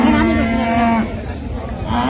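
Cow at the Raniganj cattle market in Dinajpur, a dairy breed, gives a long, loud, close moo lasting about a second, followed by a second rising call, with crowd murmur and someone speaking beneath it.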